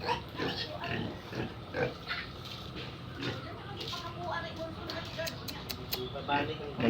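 Pigs grunting and oinking in a muddy farm setting, several short snorts scattered through a steady busy background, with voices talking over them.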